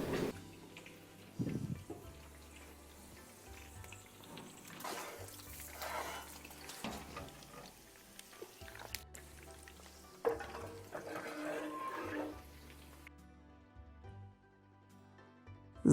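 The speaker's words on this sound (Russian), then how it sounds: "Заливаем немного воды." Very hot water is poured into a pot for a demi-glace sauce, a faint, uneven splashing and gurgling stream with a few louder bursts, close by and without talk.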